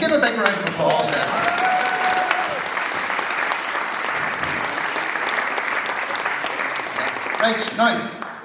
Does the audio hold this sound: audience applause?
yes